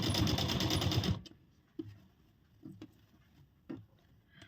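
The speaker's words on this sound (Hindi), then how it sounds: "फिर से हम लाइनिंग की तरफ से ही ऊपर की तरफ सिलाई लगाएंगे" A home sewing machine runs fast and loud for about a second while stitching a blouse lining, then stops, followed by a few faint clicks and handling knocks.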